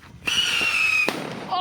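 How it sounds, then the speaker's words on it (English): A whistle bomb firework at a fireworks shop in Moalboal, Philippines, shrieks with a rising whistle for about a second and then bursts in a sharp bang, with a faint voice after. "whistle bomb? Whistle bomb. My wife's favorite."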